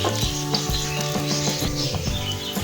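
Garlic sizzling in a pan for mutton salan, a steady continuous crackle of frying oil at moderate loudness with no voices over it.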